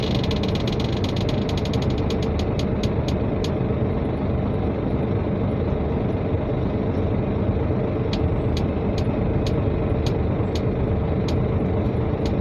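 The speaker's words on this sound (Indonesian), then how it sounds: "Tarik rem tangan." A car handbrake is pulled up inside a vehicle, giving rapid ratchet clicks that slow into spaced single clicks, over a steady loud engine and road rumble.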